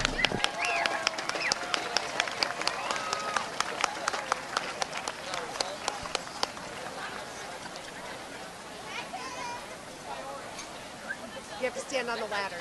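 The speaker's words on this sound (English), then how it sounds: "Let's have a big round of applause for all of our marching band parents." Crowd at a high school football game applauding marching band parents, scattered claps with a crisp run at the start, fading into a looser crowd murmur, under continuous announcer speech.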